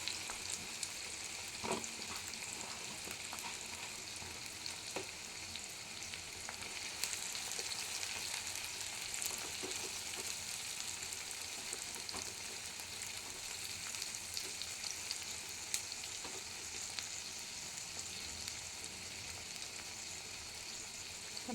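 Onions frying in plenty of oil on medium heat for beresta, a dense, even sizzle that holds steady and faint for the whole stretch with occasional small pops.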